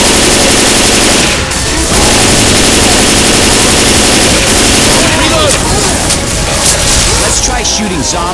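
Dense, loud automatic gunfire rattles almost nonstop as players shoot zombies in Left 4 Dead 2, with booms mixed in and voices talking over the shooting.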